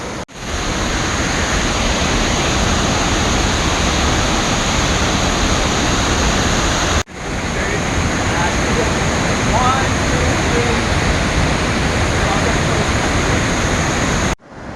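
Steady roar of water rushing over Cedar Falls waterfall along a trail in Petit Jean State Park, a dense continuous wash of noise heard close and loud throughout.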